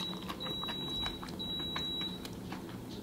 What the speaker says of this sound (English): Dude, I just heard a series of beeps.